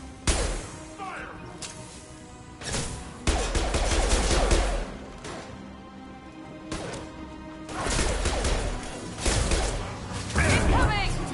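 Bursts of rapid gunfire crash in loud, dense volleys, several long stretches of sustained shooting broken by brief quieter gaps.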